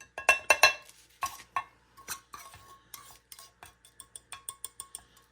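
Grubby mix being stirred into a mixture in a bowl, with a series of close, sharp scraping clinks of a utensil against the sides, loud at first, then quicker, lighter taps toward the end.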